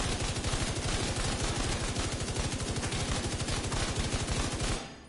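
Sustained automatic gunfire blind-fired in The Division 2 video game, a rapid, steady stream of loud shots rattling continuously for nearly five seconds before cutting off.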